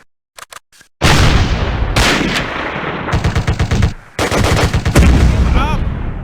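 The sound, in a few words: gunfire in the video game Close Combat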